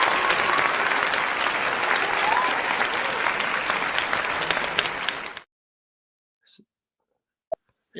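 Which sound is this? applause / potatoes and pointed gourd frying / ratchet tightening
applause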